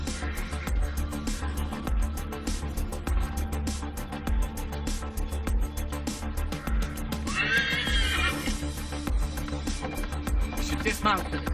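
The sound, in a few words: horse galloping and neighing in the video game Assassin's Creed 3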